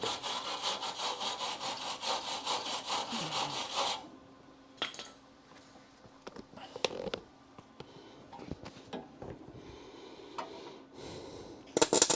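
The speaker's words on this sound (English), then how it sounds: "let me get the wire brush and clean that before I weld it." Wire brush scrubbing metal clean before welding during a Crew Cab Charger restoration, first a steady rapid back-and-forth rasping, then scattered scrapes, clinks and handling noises in a quieter shop.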